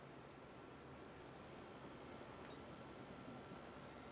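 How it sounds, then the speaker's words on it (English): A helicopter in the video game Lego City Undercover gives a faint, steady rotor-and-engine drone that holds evenly throughout, with no voices. "Okay, there's helicopter."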